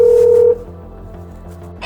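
A single steady phone keypad tone beeps for about half a second at the start of placing a call to a used-car dealer, then gives way to faint low background hum.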